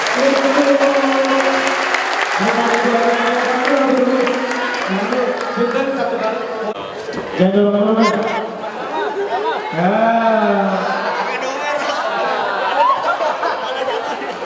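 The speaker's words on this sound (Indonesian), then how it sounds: "Mari sekali lagi kita berikan tepuk tangan ya." A crowd at a university campus event on social media gives a round of applause, mixed with chatter and some laughter, while voices talk over it throughout.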